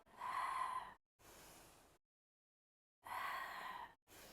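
Deep breaths during a Pilates ankle mobility exercise on a foam roller, close and airy, one long inhale followed by exhales in a slow rhythm with short silences between.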